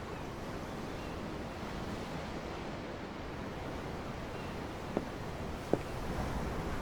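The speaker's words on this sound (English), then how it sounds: "I'm looking at the ocean." Ocean waves wash in a steady, soft roar of surf beneath wind in Tales of Arise, faint and continuous, with a couple of tiny clicks near the end and no voices.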